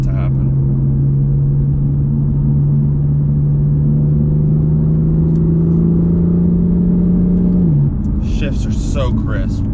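BMW M4 with a DCT gearbox pulling hard, a loud steady engine drone rising in pitch, then a sudden drop at a quick gear shift near the end, heard from inside the car.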